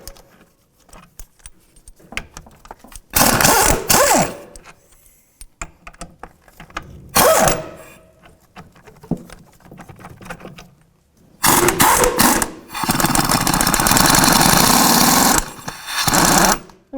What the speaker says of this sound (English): So 18mm socket,